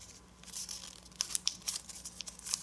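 Sheet of paper creased and folded for an origami Super Dragon Deluxe model, giving quiet, close crinkles and a few sharp crackling snaps, with no talking.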